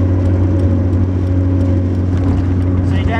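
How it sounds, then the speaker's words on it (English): Car engine with a manual 5-speed gearbox, rev-matched while downshifting toward second gear: a steady, loud engine drone and whir fills the cabin, with a voice talking over it. "So I'm basically downshifting down to second gear."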